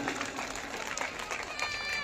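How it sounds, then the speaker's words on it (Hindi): Loud applause and cheering from a school-event audience in Sahwa, Taranagar, dense clapping filling the whole stretch with voices mixed in. "जोरदार तालियों से।"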